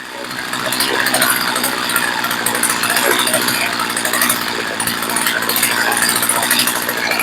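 A Poulan Pro chainsaw engine idles steadily during carburetor adjustment after a fuel system rebuild, with a close, loud, rapid rattling putter that holds an even rhythm throughout.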